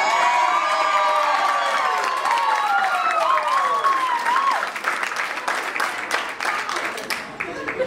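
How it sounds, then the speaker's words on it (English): Wedding guests break into loud, sustained applause with cheering and whoops for Allison in her dress, the crowd noise steady before it thins slightly toward the end. "so let's give a round of applause for Allison."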